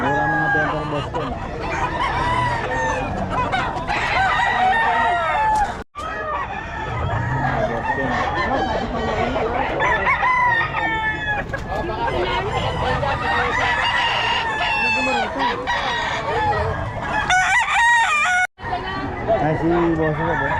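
Several roosters crow loudly and repeatedly at a busy chicken market, overlapping with clucking hens, while people chatter and call out over them.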